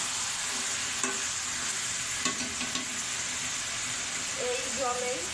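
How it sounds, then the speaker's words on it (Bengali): Duck meat stir-fries in a pan in its own juices, with a constant sizzling hiss and a few clear scrapes of stirring, close by, and a voice briefly heard near the end. "মাংস ভালো করে কষিয়ে নেব।"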